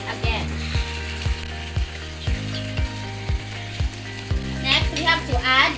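Chopped potatoes being stirred into frying chicken stew, sizzling under a repeating mechanical ratcheting drone that pulses at regular intervals, with a few louder scraping stirs toward the end.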